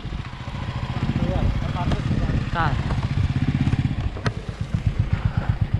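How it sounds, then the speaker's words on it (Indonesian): A motorcycle engine runs close by in Gaza, putting steadily at a low pitch through the whole stretch, with a quickening pulse toward the end as if revving or pulling away, while people talk over it. "Kita akan naik motor sama ini ya."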